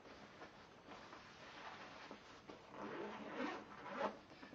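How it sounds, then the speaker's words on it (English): A zipper rasps open and shut in soft, quiet strokes, close by, with no talking. "This is a zipper."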